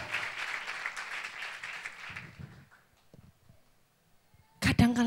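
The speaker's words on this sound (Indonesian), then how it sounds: "tepuk tangannya kurang seru lagi buat Yesus Tuhan kita" Church congregation applause for Jesus, a moderate wash of clapping that fades out over a couple of seconds into near silence, followed by a preacher's loud voice cutting in at the end.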